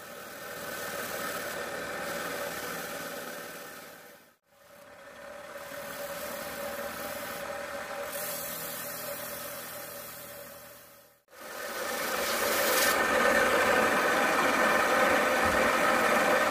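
Steady mechanical whirring and grinding hum from a bench grinder sanding a stone with 2000-grit sandpaper, continuous with two brief pauses where the noise cuts out before resuming louder.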